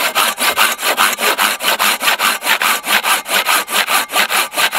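A Silky Bigboy 2000 hand saw cuts through wood in quick, steady back-and-forth strokes, about four per second. The rasping is loud, close and rhythmic, with no talking.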